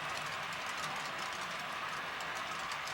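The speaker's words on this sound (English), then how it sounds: "The train would normally end up in the Portland staging yard" A model train runs on a home layout, a faint, steady rolling rumble with light rhythmic clicking from the wheels, distant and continuous, with no talk.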